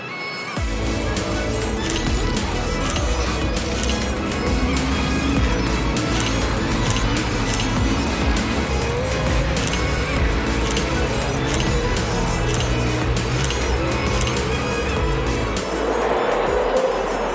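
Off-road race vehicles roar around a championship track, a loud, dense and continuous engine din with overlapping revs and passes that fades toward the end.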